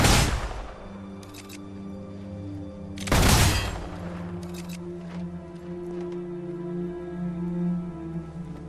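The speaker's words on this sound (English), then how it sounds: "It's a shooting range." Gunfire at a shooting range in the video game Fable III comes as two loud booming blasts a few seconds apart, each with a rushing tail, over a low droning game music bed.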